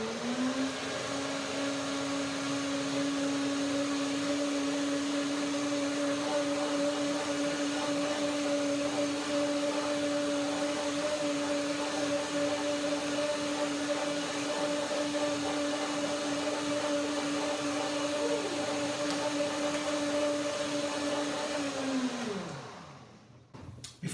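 A kitchen blender whirs steadily while blending mango, papaya, banana and milk into a soup, a loud sustained motor drone with constant pitch that spins down abruptly near the end.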